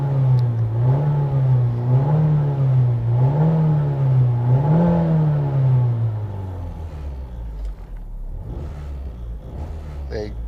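A 1999 Nissan Silvia S15 Spec R engine idles with a steady low rumble that wavers in pitch, then drops lower and rougher, with faint rattles from the exhaust and creaking dash, and no talking.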